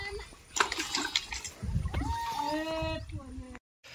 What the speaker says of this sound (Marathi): अशा प्रकारे शेंदून पाणी काढते ते आपलं संतू दाजी, काकू आणि आई